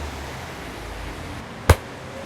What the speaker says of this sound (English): This is the sound you get when you're outside.